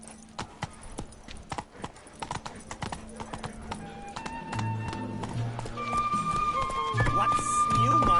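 Horse hooves clip-clopping at a steady trot and gallop in The Witcher video game, rhythmic and fairly close, joined by a swelling musical score in the second half and a short spoken line.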